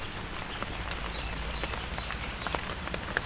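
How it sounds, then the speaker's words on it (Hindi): Rain falls in a continuous dense hiss, with occasional sharper drops ticking through it, steady and fairly loud with no voices. "बारिश हमारे लिए हो रही है, so why should I complain?"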